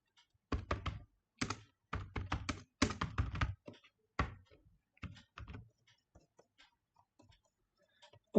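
Bursts of typing on a computer keyboard while a code comment is entered in a Java programming session, with dense clicking clusters early that thin to sparse, quiet keystrokes toward the end; no talking.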